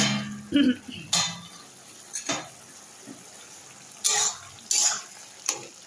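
A lid goes onto a cooking pot of bottle gourd on a kitchen stove, with several separate, close metallic clinks and clatters spaced irregularly amid quiet, and no speech.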